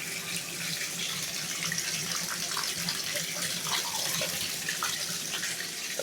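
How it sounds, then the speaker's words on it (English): Water runs steadily from a tap while old glass bottles are washed by hand, with a constant splashing rush and scattered faint clinks and knocks throughout. "I'm going to wash each one from the box by hand to the best I can"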